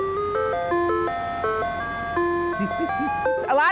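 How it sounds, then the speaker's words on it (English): An ice cream truck in the Triad plays its jingle, a bright, electronic, music-box-style melody of clear stepped notes, loud and near, with a brief burst of other sound at the very end. "there was no better sound than hearing the ice cream truck coming down your street"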